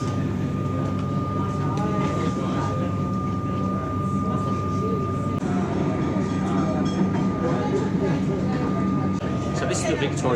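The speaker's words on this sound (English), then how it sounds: "So this is the Victoria train network." A Melbourne train on the Victorian rail network rumbles steadily, with rhythmic wheel clatter and a sustained high whine, continuous and close, as heard from on board.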